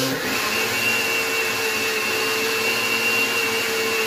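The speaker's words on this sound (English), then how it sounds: "I'm going to hit the puree smoothie button. So hang on for the noise." A blender pureeing milk powder with water whirs at a constant loud, high-pitched drone with no pauses, a steady motor whine filling the whole stretch.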